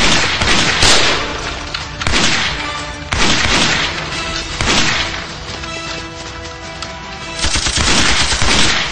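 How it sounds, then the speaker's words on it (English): Submachine gun firing in an action movie, long loud bursts of rapid shots with short breaks between them, close and dominant with no talk over it. "Sub machine gun."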